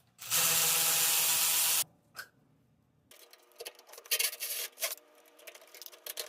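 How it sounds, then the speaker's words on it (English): Bolts come off a U-strap on a 1953 GMC Hydra-Matic truck. A loud steady power-tool whir is followed by a pause, then a stretch of clicking, clattering ratchet and metal handling sounds. "We'll just take these two bolts off, which is basically just a U-strap, and that should free it altogether."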